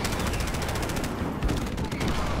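Rapid, dense gunfire from the Call of Duty video game crackles loudly and continuously, with a player's voice faintly mixed in underneath.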